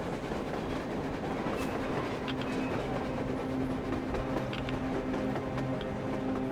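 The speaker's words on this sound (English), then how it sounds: "A train! A damn train on the surface!" A train rolls past on the surface in the game Metro Exodus, a steady loud rumble with clattering wheels and metallic rattles that holds constant for several seconds without speech.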